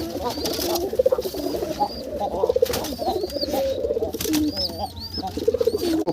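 Pigeons at a set of nest boxes cooing steadily and close by in rhythmic throaty phrases while some of them scuffle over a box, with brief sharp movement noises between the coos.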